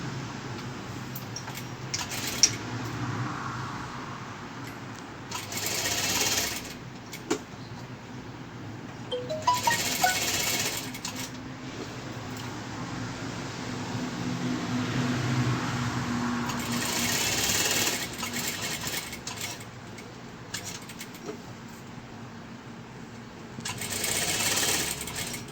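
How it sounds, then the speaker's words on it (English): A sewing machine stitches three fabric layers of a face mask in several bursts of fast, even whirring, separated by short pauses and light clicks. "keep all three fabric together and start stitching from all three sides"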